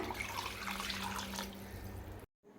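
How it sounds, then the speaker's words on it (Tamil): Water poured into a pot of chicken biryani with rice, a steady close splashing stream that runs continuously for about two seconds and then stops abruptly. "நாலு டம்ளர் அளவுக்கு தண்ணி சேர்க்குறேன்"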